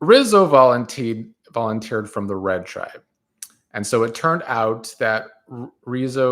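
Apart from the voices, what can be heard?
No everyday noise stands out behind the speech.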